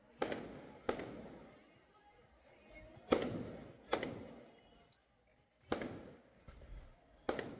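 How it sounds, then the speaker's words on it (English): Fireworks go off at a wedding at a beach resort, a series of sharp booms spaced a second or two apart, each trailing off into echo, with faint voices in between. "In fact, there were some really cool fireworks. I'm showing them here."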